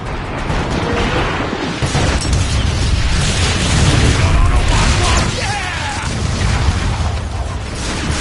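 Grenade blasts and heavy combat noise from Transformers: Fall of Cybertron rumble loudly and continuously, dense booms layered with mechanical clatter and shouted voices.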